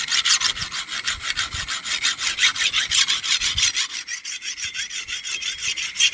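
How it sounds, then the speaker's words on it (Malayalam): Small hand file rasping across a saw blade to sharpen it, a steady rhythmic back-and-forth scraping that runs loud and close for the whole stretch with no voices. "ചെറിയൊരു അരം വെച്ച് രാവിലെ വാള് രാവിക്കൊണ്ടിരിക്കുകയാണ്."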